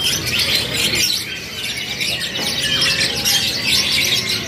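A panda-coloured local canary sings with continuous bright chirps and trills amid a busy bird shop, other birds and steady background noise around it.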